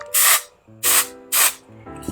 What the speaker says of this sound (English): and then you spray, and then it comes out really nicely and easily.